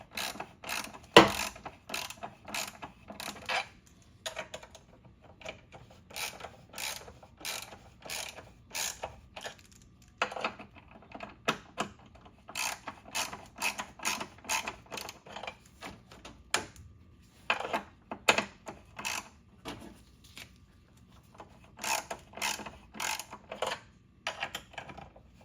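A ratchet clicks steadily while tightening the battery hold-down on a 2013 Subaru Forester, with repeated close bursts of rapid pawl clicks broken by short pauses.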